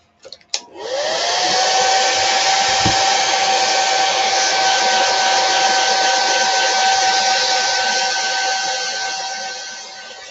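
A hair dryer blows loud and steady for about ten seconds, drying paint on an upcycled tray. A sharp click starts it, and a constant whirring whine holds throughout.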